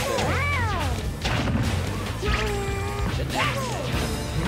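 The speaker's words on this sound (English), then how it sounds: "Just charging up smash for days." Smash attacks and impacts in a Super Smash Bros. match between Yoshi and Donkey Kong: loud, repeated whacks and crashes over game music and sliding effect tones, continuous and dense throughout.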